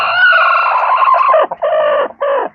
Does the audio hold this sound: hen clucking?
yes